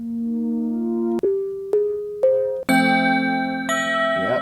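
A synthesized bell virtual instrument in BandLab, the Shadow Bells preset, strikes a series of clear, ringing bell tones one after another, each sustaining and overlapping as the pitch steps upward.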